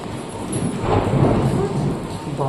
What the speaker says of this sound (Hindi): बादल गरज रहा है, डर नहीं लग रहा?